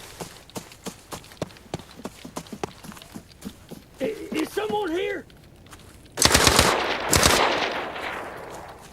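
Rapid gunfire in Arena Breakout Infinite, a steady string of sharp single shots at a quick rhythm, then a voice calling out and a loud close burst near the end.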